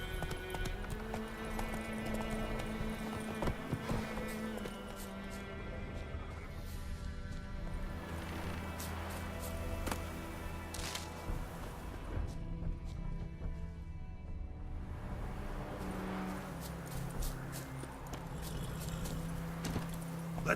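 Roach the horse's hooves clip-clop continuously in The Witcher 3: Wild Hunt, a rhythmic trotting clatter over a dense game soundtrack and ambience, moderately loud and steady throughout.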